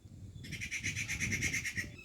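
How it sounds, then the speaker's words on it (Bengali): A bird gives a rapid, rhythmic series of bright repeated chirps, about a dozen notes in quick succession, against a quiet outdoor background at Marble Rocks on the Narmada River near Jabalpur. "দেখুন পাখিগুলো পাখিগুলো কি সুন্দর ডাকছে দেখুন"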